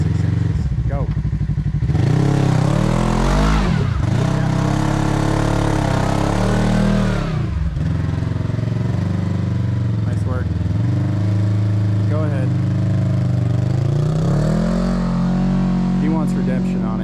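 Engine of a Kawasaki KRX 1000 four-seater or Polaris RZR Turbo R side-by-side with long-travel suspension and 35-inch tires, loud and close, revving and idling throughout with rising and falling pitch as the throttle is worked.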